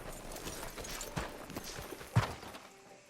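Horse hooves clip-clop at a walking pace over a quiet background in Red Dead Redemption 2, with one sharper thud near the end.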